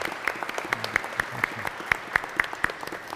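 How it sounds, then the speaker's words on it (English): A Catholic parish congregation at Sunday Mass gives a warm round of applause, a modest crowd clapping with several sharp, close claps standing out above a softer spread of hands. "I'd like to offer a warm round of applause from the Holy Spirit community for Thomas Rogers."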